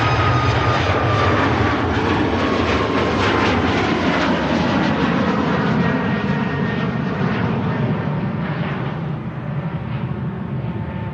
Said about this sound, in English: Here goes the Ryanair for Berlin